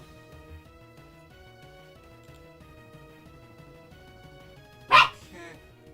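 A single sharp dog bark cuts through soft background music, loud and close.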